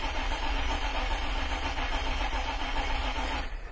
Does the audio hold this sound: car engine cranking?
yes